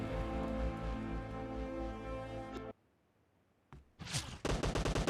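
Gunfire in the battle royale game PUBG: a dense, loud burst of automatic shots with a harsh ringing tail cuts off abruptly, then after a near-silent gap a single sharp shot leads into another rapid volley.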